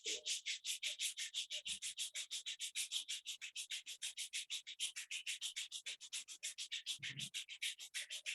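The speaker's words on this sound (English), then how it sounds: "Rub your both palms." Palms rubbing briskly together in a quiet room at the close of an online yoga class, a steady run of fast, soft scratchy swishes lasting several seconds, close and alone.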